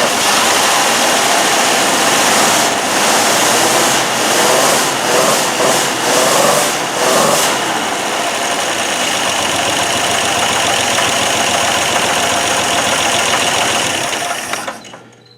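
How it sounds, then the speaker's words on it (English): A 1965 GMC engine with a suspected rod bearing knock revs up and then drops back, a loud, close, steady mechanical clatter with a rapid rhythmic knock under it, cutting off at the end; no talk. "if it's a rod, you rev it up like that and then let off of it, you hear it"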